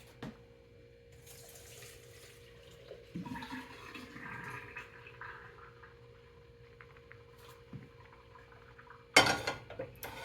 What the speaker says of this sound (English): Let me drain this pasta.